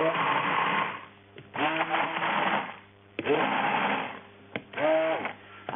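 A stick blender churns thick liquid soap paste made from lye and oil in a few separate motor bursts, each a whirring drone followed by a short pause, close and fairly loud with no talking.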